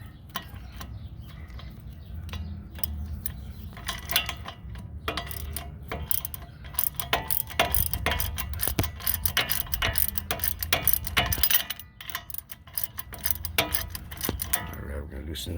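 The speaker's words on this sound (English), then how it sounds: "I'm going to switch over to my ratchet now since I broke those loose" Ratchet clicking while loosening bolts on the wheel hub of a 2001 Chevy Silverado, a steady run of close metallic ticks with occasional louder clanks of tools in a garage.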